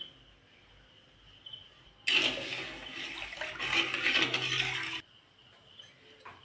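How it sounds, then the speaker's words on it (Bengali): Water pours into a cooking pot to make the sugar syrup for rasgulla, a loud, steady rushing splash lasting about three seconds that starts and stops abruptly against a quiet kitchen background. "আমি 2 বাটি জল দিয়েছি, 3 বাটি জল দেবো।"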